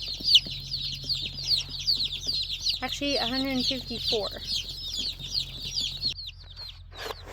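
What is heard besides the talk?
Buff Orpington layer chicks clucking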